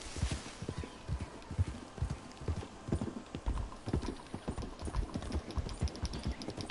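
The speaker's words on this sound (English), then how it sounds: "Here's my horse, Sam." Horse hooves clip-clopping in the video game Red Dead Redemption 2: a steady, rhythmic run of hoof clops at a walking-to-trotting pace, fairly close and clear, over faint background ambience.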